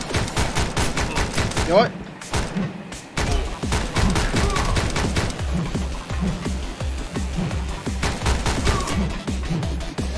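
Rapid bursts of gunfire in the video game Speed Limit, repeated shots and fusillades running almost continuously and loud throughout, with brief quieter gaps and a short spoken remark over the firing.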